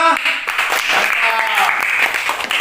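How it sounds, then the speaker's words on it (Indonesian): A classroom of students claps for a group of classmates after their presentation, with quick, uneven clapping mixed with a voice talking over it, close and loud. "Kita beri aplaus untuk kelompok 3. Tepuk tangan semua."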